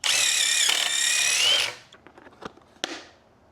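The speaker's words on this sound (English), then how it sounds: "It would help if I had my drill in forwards instead of reverse." A power drill sets pocket-hole screws into boards for a wooden lemonade stand. A steady, loud, high whine runs for about a second and a half, then cuts off and gives way to a few light knocks and clatters.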